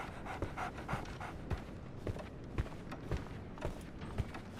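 A dog in the video game Sherlock Holmes: The Awakened pants rhythmically and quickly, close and fairly quiet, each breath a soft raspy huff repeating steadily with no voices.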